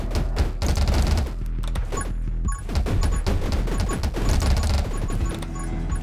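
Rapid, continuous weapon fire from the Fusillade upgrade in the game 20 Minutes Till Dawn, a dense loud barrage of overlapping shots and impacts lasting throughout with no pauses.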